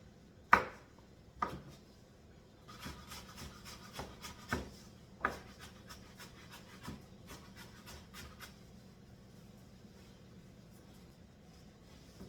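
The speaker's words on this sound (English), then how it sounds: "I didn't have any relish on hand, so I'm making some. And it's just simply dicing pickles. Sweet pickles, that is." Sweet pickles being diced with a knife on a wooden cutting board for relish: a few sharp, separate chops at first, then a quicker run of lighter, rhythmic taps that thin out and fade into quiet handling noise.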